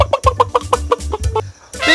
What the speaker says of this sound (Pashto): بابا دا چرګ نه دی. نو څه دی؟ لالې دی.